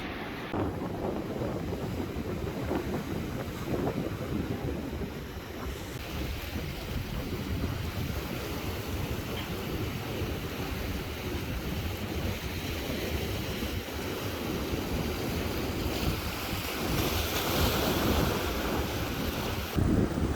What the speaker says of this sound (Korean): 거기 뒤에는 파도가 저렇게 치고 있는데